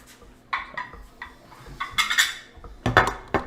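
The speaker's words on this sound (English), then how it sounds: "I'm trying to stir for you." Chocolate fondue being stirred in a pot, with a utensil scraping and clinking against the metal in scattered bursts, some sharper knocks near the end, close and fairly quiet.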